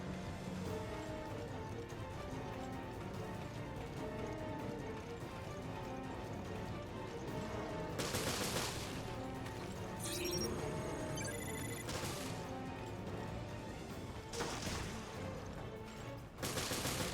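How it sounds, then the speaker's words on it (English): Machine gun fire in Resident Evil Revelations: several short, loud bursts of automatic shots every two seconds or so, set against dense, steady in-game background noise. "See, this machine gun, I think it does a pretty good job."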